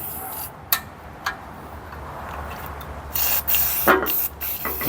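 Lubricant sprayed onto a vintage Firestone lawnmower during restoration, a few short hissing spray bursts with small ticks and a longer spray near the end, close and moderately loud, no speech.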